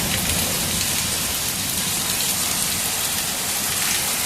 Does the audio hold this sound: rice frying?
no